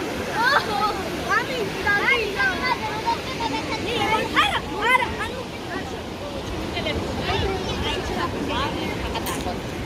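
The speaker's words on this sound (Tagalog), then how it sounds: "rumaragas ang tubig" Water rushes in a steady, broad roar throughout, with people talking over it nearby, at a market in Kutaisi, Georgia.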